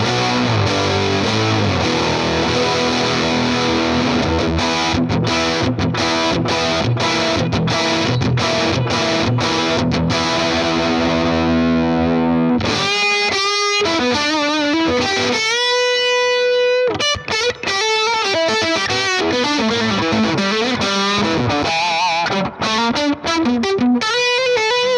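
An electric guitar plays through a VOX AC15C1 amp pushed by an Echoplex-style boost pedal, giving a loud, fat, distorted tone with a full low end. Strummed chords ring steadily at first, then give way to choppy riffs and sustained single notes.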